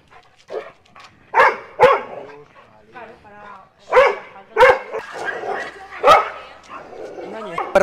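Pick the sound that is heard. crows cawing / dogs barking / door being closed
dogs barking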